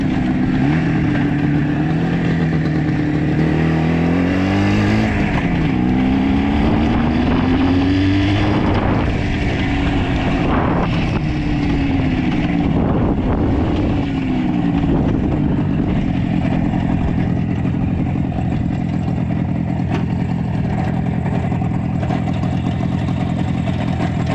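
An Izh Jupiter 4 motorcycle engine runs loud and close throughout, revving up and down in repeated rising and falling sweeps before settling into a steady drone.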